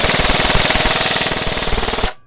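A G&G airsoft gun fires a fast full-auto burst of evenly spaced, sharp mechanical cracks for about two seconds, loud and close, stopping abruptly.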